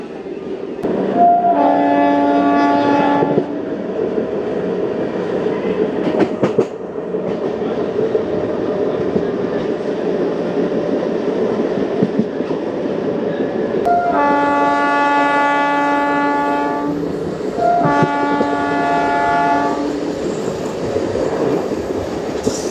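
A Hubli–Guntakal MEMU train runs toward Kusugal with a continuous close rumble and rattle, punctuated by a short horn blast early on and two more horn calls later.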